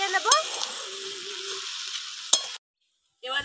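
Nate greens chorchori with sugar being stirred in a frying pan: a soft sizzle under scraping of a spatula, a couple of sharp clinks against the pan, then a brief silence before frying resumes with a voice speaking.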